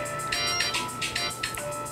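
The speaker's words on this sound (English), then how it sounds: "Whoops, that's my phone." A mobile phone ringtone trills in repeated bright bursts, roughly five pulses in under two seconds, fairly close and loud against a quiet room with no talking.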